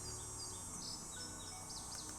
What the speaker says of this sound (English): anytime you hear chirping, it means that there are bugs nearby